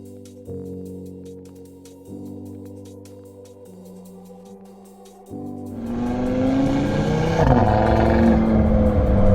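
Audi RS3 with its 2.5-litre turbocharged five-cylinder engine, idling in steady stepped tones before a sharp, loud rev climbs and rises, filling the space with a rough, throaty roar.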